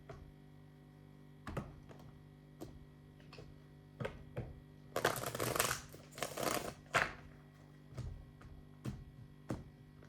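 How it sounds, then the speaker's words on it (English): Tarot cards are shuffled by hand, with scattered soft clicks and taps leading into a dense two-second riffling burst, then a few more isolated card taps, close and quiet with no talking. "Okay, I'll do a real shuffle."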